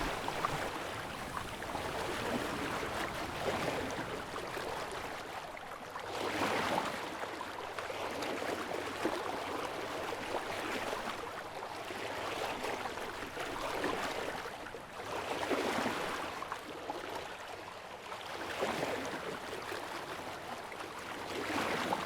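Water rushing and swishing past a moving sailboat under jib and mizzen in gentle recurring surges, with soft wind noise throughout and no voices.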